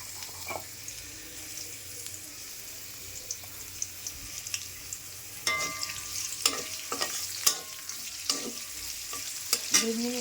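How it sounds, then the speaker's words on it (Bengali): Onion and garlic fry in a tablespoon of oil while being stirred, a faint steady sizzle running under sharp scraping strokes that become more frequent and louder in the second half; no one speaks. "পেঁয়াজ রসুন দিয়ে দিলাম ভাজা"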